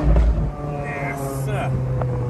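A Lamborghini Aventador V12 engine hums with a steady low drone and rising harmonic tones as it is revved, close and loud, with people talking over it.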